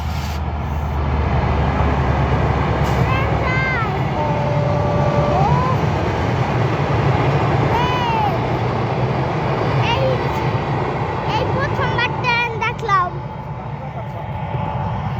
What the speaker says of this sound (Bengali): ওই যে ট্রেন যায়